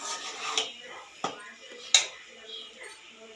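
Veg noodles stirred with pepper powder in a pan, with three sharp utensil clinks against the metal among soft scraping and light frying, close up.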